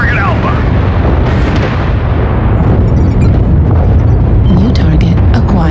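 An explosion destroys a target in a military video game: a loud, dense blast with rumbling debris fills the whole stretch, with crackling bursts near the end and voices speaking over it.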